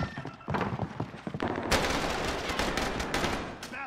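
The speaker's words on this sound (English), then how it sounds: "Throwing stun grenade." A stun grenade bursts in a video game amid loud gunfire; scattered shots build into a sudden harsh blast, followed by sustained crackling, noisy chaos.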